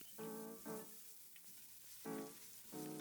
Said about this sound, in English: I'm going to add in a couple tablespoons of annatto seed oil, and I'll drop in our minced shallots. We'll saute this